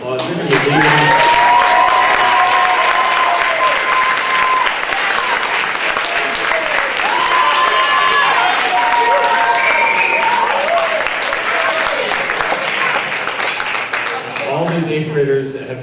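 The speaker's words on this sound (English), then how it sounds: "And let's give them a round of applause" A jazz night audience gives the 8th graders a round of applause, loud sustained clapping with brief cheers and music tones over it, fading out near the end.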